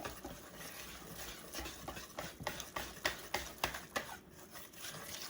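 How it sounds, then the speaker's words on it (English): A whisk beats tempura batter in a bowl with rhythmic, quick taps and scrapes against the sides, fairly faint and close, growing slightly more pronounced midway, with no voices. "Now I'm just going to take the whisk and mix up the batter here."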